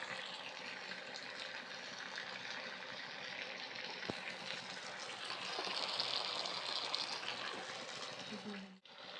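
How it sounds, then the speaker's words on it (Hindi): Mustard oil poured into a frying pan during Kashmiri village cooking, heard as a steady, fairly loud broadband rush of liquid that lasts about nine seconds and swells slightly midway before cutting off sharply near the end. "इस फ्राइंग पैन में हम डालेंगे सरसों का तेल"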